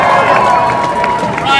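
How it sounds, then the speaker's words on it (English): Dense crowd noise at an outdoor pro-Palestinian protest in Leeds, a steady wash of clapping, cheering and babble holding loud and close throughout the short burst. "Give yourselves a big round of applause"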